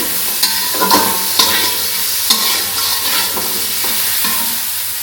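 Okra frying in a pan crackles and sizzles steadily while a spatula scrapes and taps the pan in an uneven rhythm of repeated strokes, close and fairly loud, with no voices.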